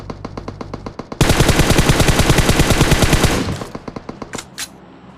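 A long, rapid burst of automatic gunfire crashes out during a PUBG Mobile firefight, loud and close, then trails off into a few scattered single shots after a couple of sparse shots before it.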